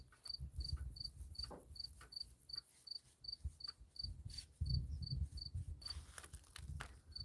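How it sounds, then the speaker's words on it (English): A cricket chirps steadily in short, evenly spaced pulses, with low rumbling and soft thumps underneath, while a tractor is being painted. "that cricket is getting on your nerves"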